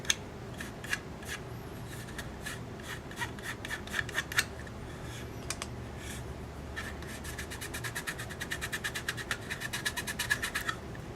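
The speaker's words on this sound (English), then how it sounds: "And a little rub down." Steady rubbing and scratching on a painted HO scale model boxcar, a brisk run of short rasping strokes that speeds up toward the end, close and alone without talk.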